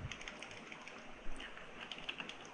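Quiet, rapid clicking of keys on a computer keyboard as a blog post title is typed, a close run of light taps with no voice.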